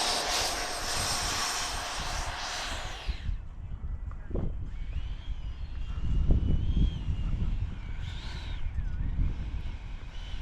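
Freewing F-5N 80mm electric ducted-fan RC jet on its maiden flight, a loud whooshing roar passing close by that then falls away, followed by a quieter rumbling stretch and faint whine as it comes in to land outdoors.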